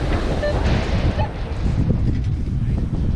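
Strong wind buffeting the microphone on a Hawaii beach at night in a continuous rough roar, with a faint wash like surf underneath.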